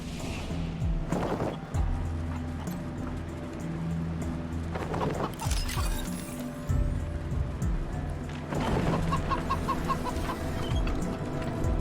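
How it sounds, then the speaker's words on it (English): Chicken clucking in Wasteland 3: short clucking bursts recur over a busy, loud game background of low rumbling and hoof-like clopping, with no talking. "Oh, another chicken."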